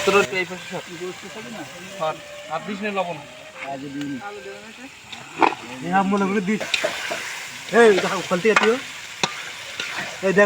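Meat being fried and stirred in a pot at an outdoor birthday picnic among friends, steady sizzling with scraping stirs underneath, while several people talk loudly over it throughout.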